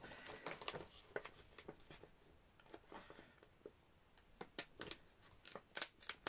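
Scissors trim paper for handstitched scrap booklets, giving a series of quiet, close snips and papery rustles at an irregular pace with no talking.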